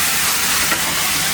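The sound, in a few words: vegetables sautéing in a pan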